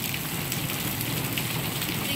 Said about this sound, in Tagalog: Ang experience natin ngayon ay tungkol lang sa maulan na hapon.